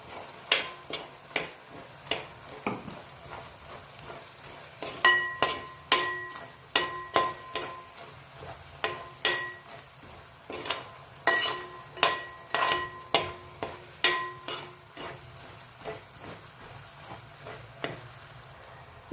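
Garlic, ginger, chili, coconut pieces and curry leaves stir-fried in hot oil for a Kerala chicken dish, steady close sizzling broken by repeated sharp scrapes and taps of a spoon against the pan.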